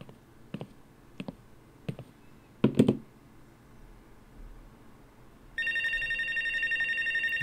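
A phone in the video game Life is Strange: Wavelengths rings in a steady, continuous electronic trill over the last couple of seconds, after a few scattered clicks and taps.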